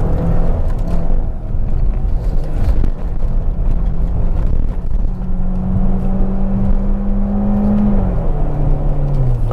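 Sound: Peugeot RCZ automatic gearbox shifting up twice

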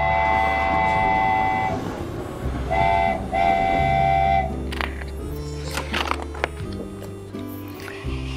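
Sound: train sound effect in story reading

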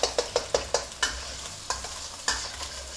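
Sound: eggs stir-frying in a hot pan

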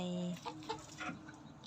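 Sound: chickens clucking in a rural yard

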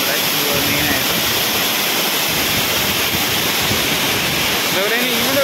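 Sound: Areekal waterfall rushing water

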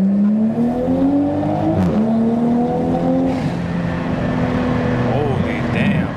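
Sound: Toyota A90 Supra with new Made Motorsports exhaust revving

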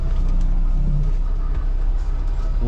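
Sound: car driving past a truck

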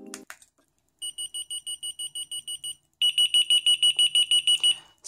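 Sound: key finder alarm with speaker covered

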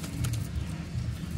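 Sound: pigeons cooing

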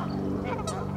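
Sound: geese honking on the Rio Grande

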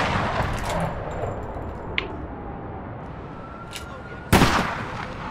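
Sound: gunfire in video game APB Reloaded

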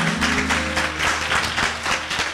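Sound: church congregation clapping hands

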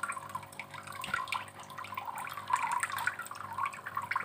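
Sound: water flowing out through a hose into a grow-out pond

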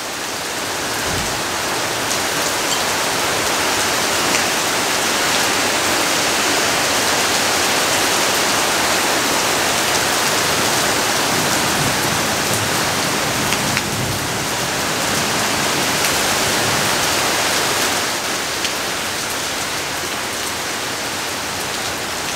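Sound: rain falling with breeze

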